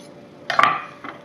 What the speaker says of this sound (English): we'll just go ahead and slice it while it's still in the peel here